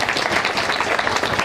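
A crowd at a public health participation meeting in Makueni claps for the doctors in a short, dense burst of steady applause, close and fairly loud throughout.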